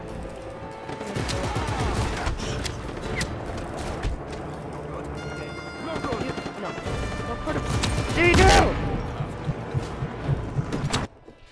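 Sharp bursts of gunfire and heavy sniper shots ring out in Just Cause 3 during a base raid, with crashes and impacts that peak in a loud blast near the end, and a player talking over the action.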